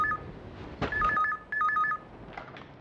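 A telephone rings in a home scene from a Marathi TV comedy serial. Two close, clear electronic double-trill bursts follow a short thud, with no talking.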